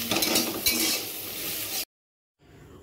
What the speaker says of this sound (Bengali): করলাটাকে আগে ভেজে নিচ্ছি